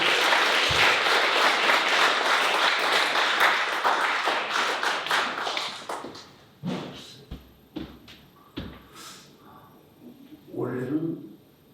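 Congregation applause at a church service in Hanoi as a retiring pastor is invited forward, dense clapping for about six seconds that tapers into scattered claps and thumps, with a voice speaking near the end.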